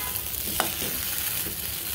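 Meat frying in a pan until soft and puffed gives a continuous close sizzle, with a single stirring scrape midway through the short stretch.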